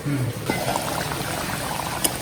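Tamarind curry with elephant foot yam simmering in a pot on medium heat, a soft continuous burble with small pops, close up and fairly quiet.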